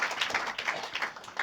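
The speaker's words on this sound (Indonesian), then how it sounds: "Berikan tepuk tangan dulu buat Tuhan kita yang baik." A church congregation clapping during a sermon, a brief burst of brisk, fairly even claps at close range.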